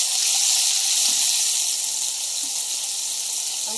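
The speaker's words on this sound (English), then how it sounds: "I'm rinsing the plate off." Steady running tap water pours over a plate being rinsed at a kitchen sink while cooking beef stroganoff, a constant bright hiss with no talk over it.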